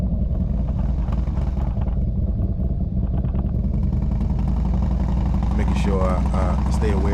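Harley-Davidson motorcycle fitted with a Zipper's Performance Muscle 107 engine, ridden on the road: a loud, steady, deep engine drone runs throughout with rumbling harmonics, and brief voice sounds come near the end.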